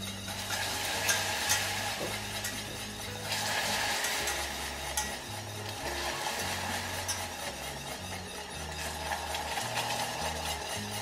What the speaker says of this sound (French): je vais pouvoir ajouter ma crème hors du feu sans cesser de remuer